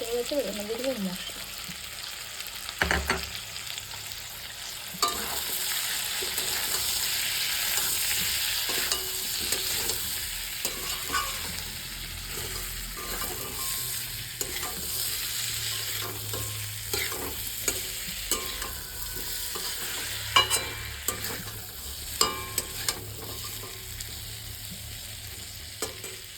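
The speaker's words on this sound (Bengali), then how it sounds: "মধ্যে মশলাটা দিয়ে ততক্ষণ না কষাবো যতক্ষণ না এর মধ্যে দিয়ে তেল ছাড়ে।" Spice paste fries in hot oil with a steady sizzle as a spoon stirs and scrapes the pan in frequent rhythmic knocks, up close, with a voice occasionally heard.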